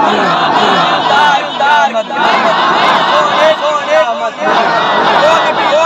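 A crowd at an Islamic religious gathering for Rabi ul Awal chants slogans loudly and in rhythmic unison, swelling in repeated waves with voices overlapping close by.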